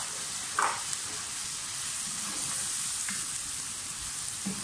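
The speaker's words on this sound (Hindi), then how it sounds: "अब साथ ही इसमें पालक डाल दें" Fresh spinach for palak paneer hitting a hot pan, a steady soft sizzle throughout with a few brief clicks and clatters near the pan, no voices.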